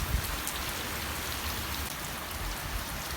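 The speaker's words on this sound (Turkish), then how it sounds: "Yağmur biraz fazla yağınca arkadaşlar şu birikintileri de bahçeyi kapladı." Steady heavy rain falls and patters on a garden, forming puddles, a dense even hiss with a few louder drops.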